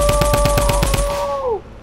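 Rapid automatic gunfire in a shooter video game: a loud, evenly spaced burst of shots lasting about a second, then cutting off as a ringing tone bends down and fades.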